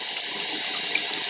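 Water runs steadily from a tap while makeup brushes are rinsed at a sink, a continuous close hiss and splash with no talking.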